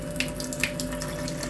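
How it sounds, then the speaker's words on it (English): Tap water trickles in a steady, soft stream into a Saladmaster one-quart saucepan holding frozen mixed vegetables, heard close and quiet with faint splashes and no speech. "because I'm cooking it from frozen, I need to put a little bit of water in it."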